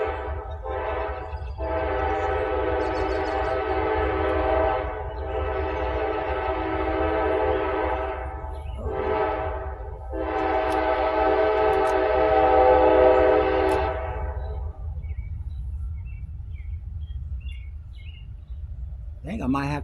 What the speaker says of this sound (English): let's go ahead and let the train go by